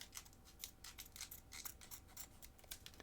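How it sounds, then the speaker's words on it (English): Scissors snip through a foil trading card booster pack in a quick series of sharp, crisp cuts, close and fairly quiet, with no talking. "There is a notch, but I'm just going to use scissors."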